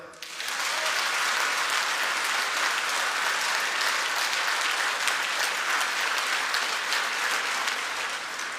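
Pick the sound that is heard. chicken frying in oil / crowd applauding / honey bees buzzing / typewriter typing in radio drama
crowd applauding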